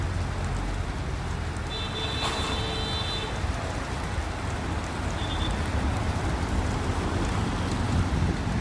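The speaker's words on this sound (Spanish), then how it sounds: "Qué rica lluvia." Rain falls steadily in Ayacucho during sunshine, a continuous even hiss of drops on surfaces with a faint high tone briefly sounding in the background and no talking.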